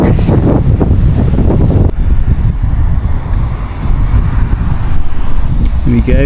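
Strong headwind roars and buffets across the microphone while cycling from England toward Amsterdam, a loud continuous rumble throughout with a brief gust break near the two-second mark.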